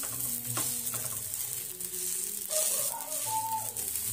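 A green moong dosa roasts on a hot pan with a steady soft sizzle. Faint scraping and rattling from flipping it sit close over the hiss, with no talking.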